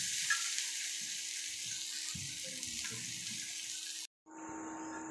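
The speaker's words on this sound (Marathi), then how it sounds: "तर हा कांदा भाजताना एक पळी तेल आपण यूज करायचं आहे व चांगल्या प्रकारे याला भाजून घ्यायचे" Chopped onion fries in a ladle of oil in a pan for egg curry, giving a steady close hiss that runs unbroken, briefly cuts out near the end, then resumes.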